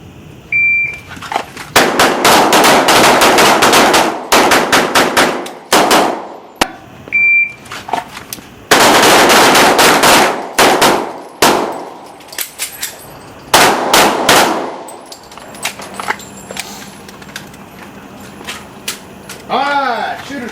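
Handgun shots on an outdoor combat shooting course, loud sharp reports fired in quick groups from several shooters, with brief pauses between strings and beeping timer tones.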